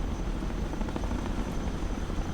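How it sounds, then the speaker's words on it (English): A Chinook cargo helicopter in the war game Broken Arrow gives off a steady, dense rotor and engine roar that holds even and loud throughout. "Helicopters are really impressive machines. Too bad they're so noisy."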